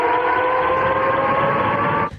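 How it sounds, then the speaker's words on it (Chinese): Loud air raid siren sounding over Belgorod, Russia, a sustained steady wail filling the air before cutting off abruptly at the end. "周末又响起空袭警报"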